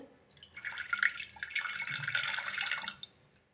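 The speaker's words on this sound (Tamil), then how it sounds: "குக்கரில் கொஞ்சம் தண்ணி ஆட் பண்ணிவிட்டு" Water pouring steadily into a pressure cooker for a few seconds, a splashing, gurgling stream close by, then stopping.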